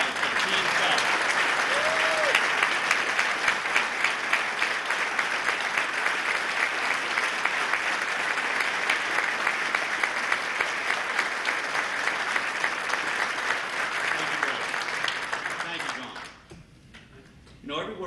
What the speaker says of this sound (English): I would love a round of applause for Team Fells